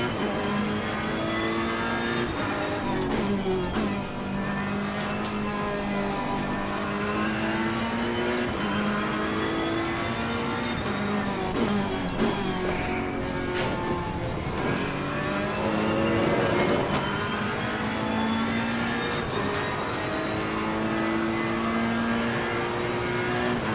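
A GT3 race car engine at Monza in a racing game, loud and close, revving up and down through gear changes with a steady rising and falling drone across the whole lap segment.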